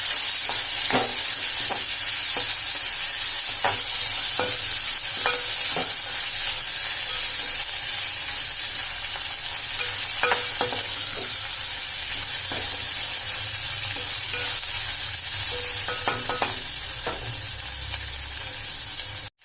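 Ivy gourd (tondikayi) stir-fry sizzles steadily in a pan while a spoon stirs it, scraping and clinking in irregular bursts over the continuous close frying hiss.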